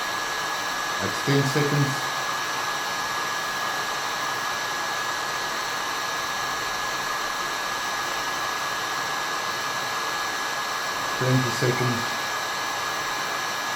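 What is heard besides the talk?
hair dryer heating a nitro engine piston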